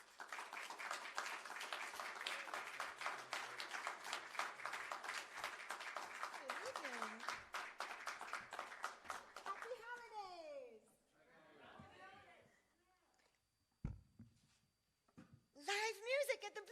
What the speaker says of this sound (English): How about a round of applause for my good friend